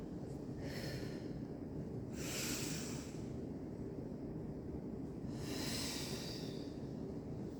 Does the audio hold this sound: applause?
no